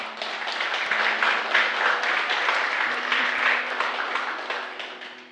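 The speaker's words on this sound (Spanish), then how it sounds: "Dale un aplauso al Señor." A church congregation applauds at a service, a sustained, even burst of many hands clapping that lasts several seconds, with a low steady hum running beneath it.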